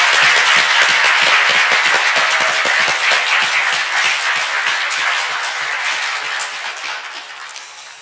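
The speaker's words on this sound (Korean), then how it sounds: "우리 큰 박수로 우리 목사님 축복하도록" A church audience applauds a pastor at a Korean church pastor installation service in Seattle, giving loud sustained clapping from many hands that slowly fades over several seconds.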